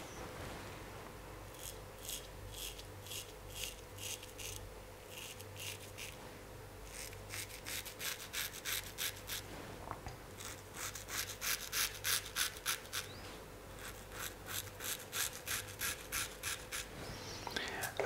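A barber shaves a three-and-a-half-day beard with a Gillette Slim Adjustable razor and an Astra blade, giving close, rhythmic scraping strokes that come in quick bursts and grow denser and louder toward the end, over a faint background hum.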